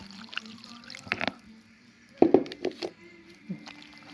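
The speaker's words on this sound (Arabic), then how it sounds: "وهنحط كوباية مية دافية" Warm water pours and splashes into flour in short gurgling bursts, close by, with a few soft drips and quiet pauses between, while making dough.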